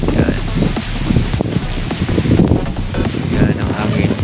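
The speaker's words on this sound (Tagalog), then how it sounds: "Yan ang hangin." Steady wind gusts buffet the microphone with rustling, while a person talks over the blustery noise outside a seaside resort in Subic.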